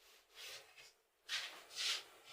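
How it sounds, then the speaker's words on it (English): Writing being rubbed off a board during a physics lecture, heard as soft, breathy swipes of an eraser, two fainter strokes followed by two louder, longer ones, close by with no talking. "So I'm going to rub this again,"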